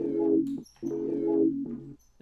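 A soft synth sine pad with no pitch slide plays two sustained, smooth notes with stacked tones in an R&B beat, each note ending in a quick fade, clean and alone.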